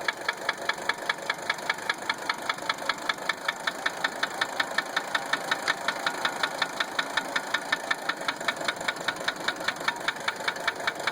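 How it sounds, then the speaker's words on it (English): A 1980 Mercedes 300 SD diesel engine idles with its number one injector line cracked, giving a steady close clatter with a regular rhythmic tick that holds for about eleven seconds with no talking. "Number one injector line cracked."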